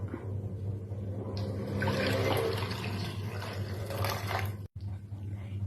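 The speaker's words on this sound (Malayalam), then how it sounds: "അപ്പോൾ നമുക്ക് വെള്ളം ചേർക്കാം." Water poured into wheat rava in a pan for mixed vegetable upma, a steady close splashing rush lasting several seconds before breaking off abruptly, over a low constant hum.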